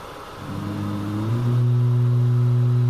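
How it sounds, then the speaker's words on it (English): A Boeing 737 Max engine starting up in a flight simulator game, spooling up from a low rumble into a loud, steady droning hum that levels off and holds. "that engine startup sound is so legit"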